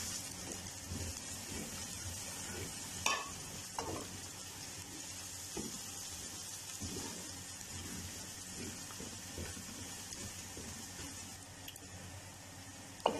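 Whole spices including black cardamom, star anise, cinnamon and cumin fry in a pan for Kashmiri chicken masala, giving a soft continuous sizzle broken by occasional spoon scrapes and light clinks, with no voices.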